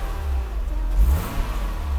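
A Mercedes W461 300GE with the M103 engine revs up during an engine test after a fuel distributor repair, a loud near throaty rise in RPM peaking midway then settling into steady running.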